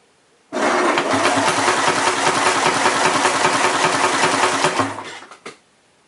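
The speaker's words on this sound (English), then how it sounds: "And now I'm going to turn the engine over to see what type of control the tensioner spacer has over the excess chain slack." A Nissan KA24E engine is turned over with a tensioner spacer fitted against timing chain slack, cranking and running in a loud, steady, buzzing rattle for several seconds before shutting off abruptly.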